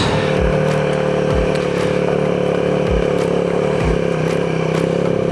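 A steady, loud motorcycle engine drones continuously at a constant pitch while riding uphill, with a few low thumps or bumps underneath.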